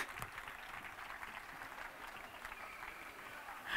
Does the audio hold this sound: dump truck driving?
no